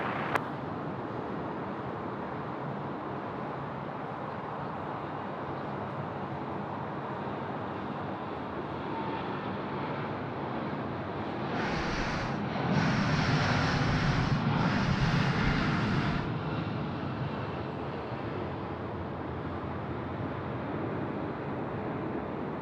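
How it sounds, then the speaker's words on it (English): A British Airways airliner rolls for a night takeoff on runway 34 left at Sydney Airport, a distant steady engine roar that swells briefly louder midway before settling back into a constant rumble. "Here we go, Speedbird now rolling 3-4 left."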